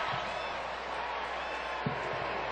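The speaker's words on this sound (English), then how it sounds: "And the crowd is roaring." Stadium crowd at a Canada versus USA women's soccer match, a steady broad roar of massed voices filling the whole clip at even loudness, with a couple of brief low thumps near the start and just before the end.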